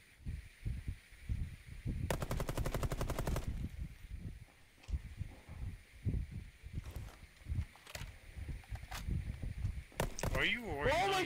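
Gunfire in the Rainbow Six Siege video game, with a rapid burst of automatic fire followed by scattered single shots and thuds, close and sharp, with voices talking in between.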